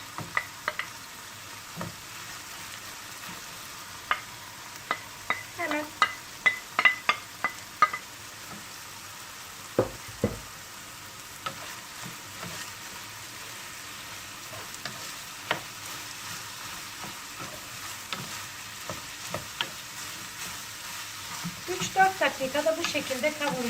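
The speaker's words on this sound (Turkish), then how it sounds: "Yumurtamız 1-2 dakika bu şekilde kavurdum." Eggs with green and red peppers frying in a pan for Kayseri yağlaması, a quiet continuous sizzle broken by scraping, clanking stirring strokes, busier early on and again near the end.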